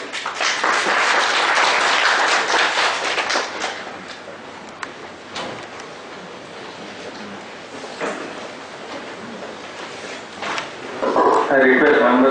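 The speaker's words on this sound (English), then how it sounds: "Once again, round of applause, ladies and gentlemen." Audience applause at the close of a seminar session on audit regulation, a dense burst of clapping that fades into scattered claps and room noise, with a voice speaking over the end.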